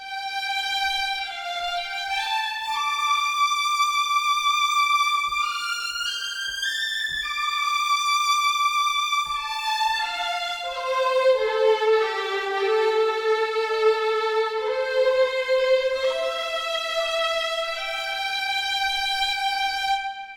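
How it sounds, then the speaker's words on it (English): A smooth, connected string melody played legato by second violins, notes gliding into one another, steady and moderately loud, with no voices. "Second violin, in contrast, sounds like this."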